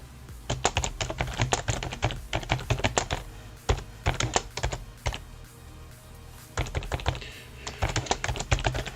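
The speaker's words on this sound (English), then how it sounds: "Goodness, my typing skills" Fast typing on a computer keyboard, close and clear, coming in quick bursts of clicking keystrokes separated by short pauses, with no talking.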